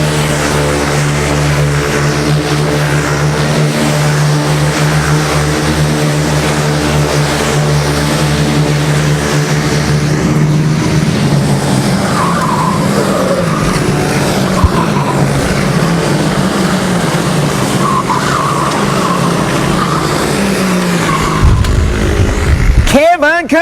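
Racing karts at the World Masters super final of the SWS International Finals roar steadily past on the track, engines droning loud and continuous with a brief tire squeal, under a race commentator's voice.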